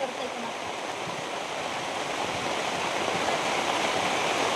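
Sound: heavy rain

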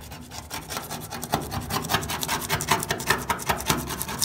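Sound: scraping original paint logos off a vintage car

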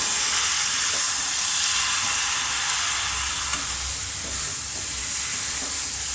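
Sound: paneer being stirred and mixed in a frying pan

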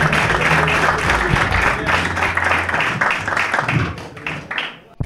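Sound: audience applause for a comedian

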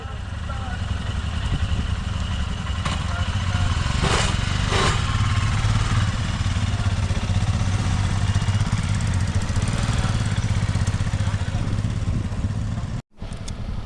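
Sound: motorcycle riding to Magnetic Hill

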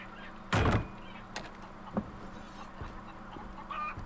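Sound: door opening in the video game Far Cry 3

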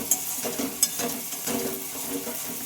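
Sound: stirring and frying spice paste in a pan

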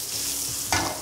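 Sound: carrots, onions and celery frying in pan

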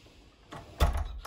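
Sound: dormitory room door opening

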